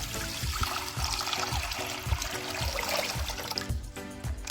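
Water is poured into a large cooking pot or wok for noodles, giving a steady splashing, gurgling stream with soft rhythmic knocks underneath and no talk.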